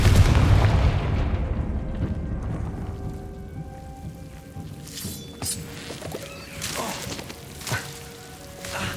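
A Confringo blasting spell in the Hogwarts Legacy video game opens with a loud boom that decays into a rumbling, crackling wash, followed by scattered softer bursts over steady ambient noise.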